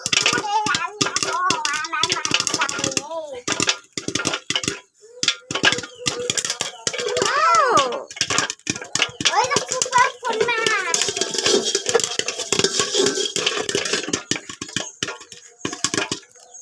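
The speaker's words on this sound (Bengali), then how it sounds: "ফুটতেছে বন্ধুরা, আপনারা তো টের পাচ্ছেন, ওদারে ফুটতেছে" Corn kernels pop in a covered pan, with dense crackling, sharp clicks and pops running through under continuous talking and a voice, close to the pan.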